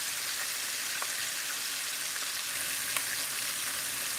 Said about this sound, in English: see how that's frying up and it's sizzling? So that sizzle has come up.